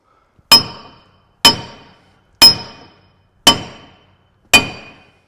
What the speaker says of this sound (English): And how come we can hit this thing with this big hammer, Brett?